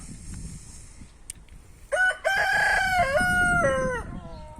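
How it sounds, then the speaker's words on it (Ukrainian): A rooster crows once, loud and close, a long strained call lasting a couple of seconds after some quiet background noise. "Кукаріку і півник також до вас звертається"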